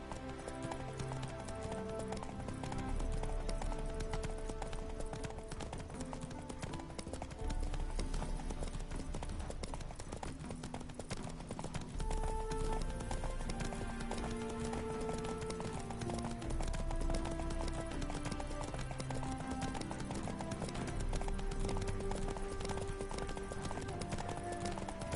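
Horse hooves clip-clopping at a steady gallop in the video game The Witcher 3, a continuous rhythmic beat throughout, with music playing underneath.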